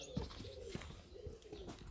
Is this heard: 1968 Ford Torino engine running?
no